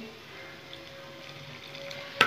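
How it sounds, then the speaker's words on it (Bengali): Spice masala for a dim fulkhofi dalna, with ground black pepper and a splash of water, sizzles softly in a pan, a low steady fry ending in a brief loud clatter of the spoon against the pan. "এখন আমি কষে নেব, খুব ভালো করে কষে নেব।"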